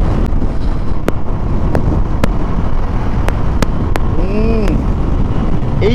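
A Znen T10 FI DD motorbike riding fast along a hilly road, with steady loud wind rush buffeting the microphone throughout and brief sharp ticks, no talking.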